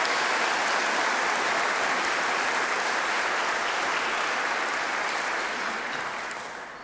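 Audience applause at a formal address by the head of the Republic of Tatarstan, a steady wash of clapping from a large hall that fades slightly at the end.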